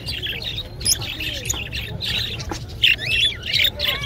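Shrill cockatiel squawks ring out in quick, repeated bursts close by, over a low background hum, at a bird market.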